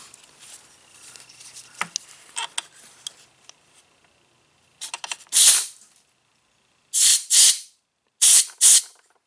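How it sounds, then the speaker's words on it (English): Compressed air hose with a rubber-tipped nozzle on a Briggs and Stratton engine, giving loud hissing blasts in pairs: a quick burst midway, then two doubled bursts near the end, with quieter rustling beforehand. "And then of course the old air hose. I like the ones with the rubber tip on them."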